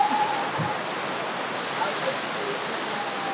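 Steady broadband rush of falling water, like a waterfall close by, constant and loud throughout with no clear voices on top.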